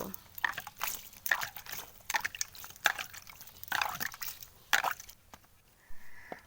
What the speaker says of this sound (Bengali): মাটি দিয়ে দিয়েছি, এবারে ওপর থেকে জল ছড়িয়ে দেব।